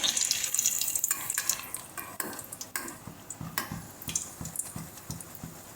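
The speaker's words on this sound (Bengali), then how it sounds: "আমরা প্রথমে বাদামটা দিয়ে ভেজে নেব সমস্ত বাদামগুলো দিয়ে ভেজে নিচ্ছি সুন্দর করে" Peanuts frying in hot oil in a jhanjhri (perforated ladle) for jhuri aloo bhaja: steady sizzle with scattered ladle clinks and stirring knocks, close and moderately loud, no voices.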